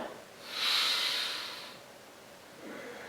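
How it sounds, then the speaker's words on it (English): A deep breath taken during a yoga session in an office setting, a single long airy inhale rising and fading over about a second, fairly close and soft, followed by a quieter breath. "let's take about 4 deep breaths in here"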